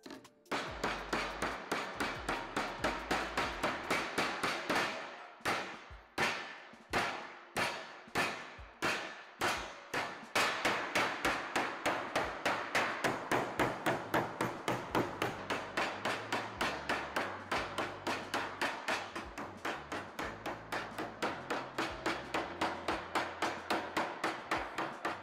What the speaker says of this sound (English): the hammer works great for hammering down those tucks